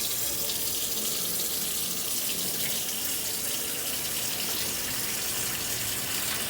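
Tap water runs steadily into a washing basin while clothes are being washed by hand, a continuous close splashing stream with no talk.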